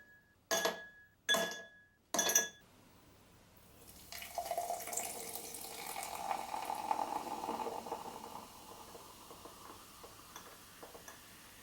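Three sharp clinks of glass come first, followed by a soft, steady fizzing and bubbling as sparkling Jamaican ginger beer settles in a glass, close and fairly quiet.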